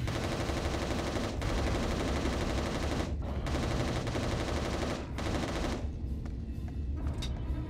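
Sustained video game gunfire in Resistance: Retribution, a dense, loud stream of rapid shots with brief pauses near three and five seconds before trailing off into quieter scattered sounds, no voices.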